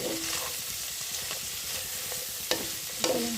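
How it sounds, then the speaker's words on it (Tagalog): Bicol express sizzles as it fries in a pan, a steady frying hiss with a few soft stirring scrapes and clicks near the end, quiet and close, with no talk. "Haluin ko lang."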